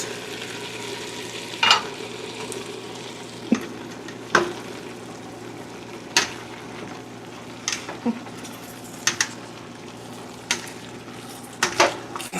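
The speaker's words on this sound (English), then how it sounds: "Stir this really good." A pot of kapusniak soup being stirred, with a string of clinks and scrapes from the spoon against the pot over a low bubbling background, close by, with no talking.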